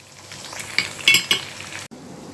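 Chopped onions for a tadka, already mostly browned, frying in a pan for aloo gobi, with a soft sizzle under a few sharp clinks of a spoon stirring against the metal pan.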